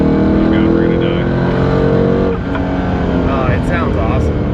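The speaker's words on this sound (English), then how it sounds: "I like the exhaust note of Corvettes." A Chevrolet Corvette Z06 with its stock titanium exhaust drones steadily while driving, shifting character partway through, with voices talking over it throughout.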